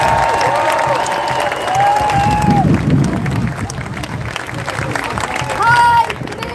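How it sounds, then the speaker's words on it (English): A large crowd at a protest rally in New Orleans applauds steadily, with scattered cheers and whistles rising over the dense clapping throughout. "a huge round of applause for Renee Alterman."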